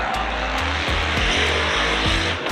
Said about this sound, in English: 40 horsepower LS2 C6 Corvette